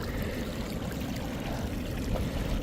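Water trickles and flows into a creek at Mill Creek in the California highlands, a steady, close, broadband rush with no voices, continuous throughout.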